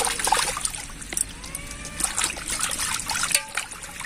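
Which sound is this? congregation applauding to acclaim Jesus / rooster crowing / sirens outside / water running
water running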